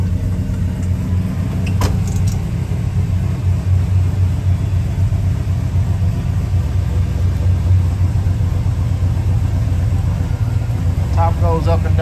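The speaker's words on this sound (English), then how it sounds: "motor or listen to the motor." A 1970 Oldsmobile Cutlass convertible engine runs steadily at idle, a continuous low rumble with no break in rhythm, heard close by and fairly loud for the whole stretch.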